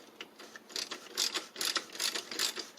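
A ratchet wrench clicks in quick, uneven bursts while tightening a plastic oil filter cap on a 2007 Saturn Vue, faint and close with no talking.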